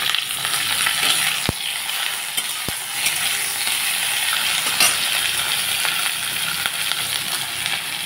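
Eggplant and five green chillies fry in a hot pan with a loud, continuous sizzle and crackle, close up, broken by a couple of sharp metallic taps from a spoon against the pan.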